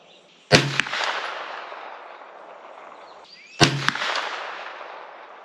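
Two 9mm shots from an Aero Precision EPC carbine firing Blazer ammunition at the range: sharp, loud cracks about three seconds apart, each trailing off in a long echoing decay.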